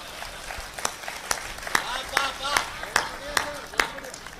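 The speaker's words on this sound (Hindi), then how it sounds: "और व्यंग पर आपकी तालियां उठेंगी" A seated audience claps in a steady, even rhythm at a Hindi satirical talk, a run of sharp, regularly spaced claps with a voice speaking alongside.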